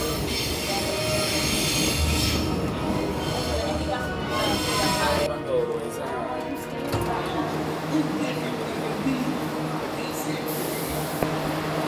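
A subway car on the Buenos Aires subte rumbles steadily along the rails, with wheel squeal and rattling rising and falling throughout, close and continuous, while faint voices talk underneath.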